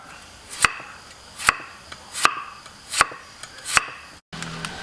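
A knife chops through crisp Chinese kale stems on a board, five sharp cuts at an even, unhurried rhythm, close and distinct.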